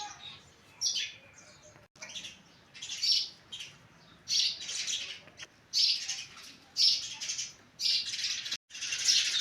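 Sparrows chirp in repeated bright bursts, a busy cluster of short tweets and squawks with brief pauses, fairly close and alone.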